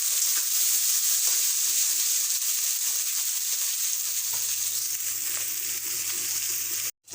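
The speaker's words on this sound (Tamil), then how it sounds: "வெங்காயம் இது நல்லா வதங்கட்டும்" Onions frying in a pan for a West Bengal style chicken dish, a steady, even hiss of sizzling oil held close and fairly loud throughout, cut off abruptly at the end.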